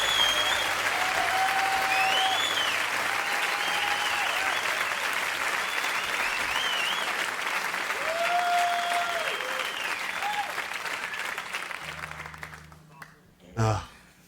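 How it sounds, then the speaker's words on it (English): Applause rises from a live concert recording, a sustained roar of clapping mixed with some crowd noise that fades toward the end, with a voice talking over it. "And people applaud this."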